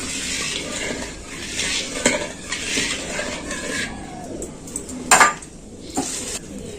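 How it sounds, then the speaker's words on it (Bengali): Potato and semolina snack mixture being stirred in a pan, spoon scraping and clattering against metal in uneven strokes with a louder clank near the end, over a soft sizzle. "দিয়ে আবার এটাতে আমি নাড়াচাড়া করে নিচ্ছি একটু"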